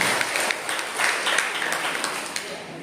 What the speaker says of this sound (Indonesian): Mari kita berikan aplaus buat Bapak